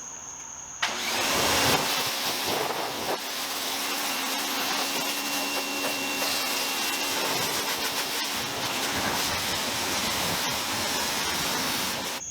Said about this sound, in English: having something like the Active VE52 pressure washer just makes rinsing so much easier